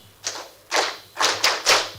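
Audience members clap back a short rhythm in unison, five soft claps with a pause after the first, fairly distant, with a low hum beneath.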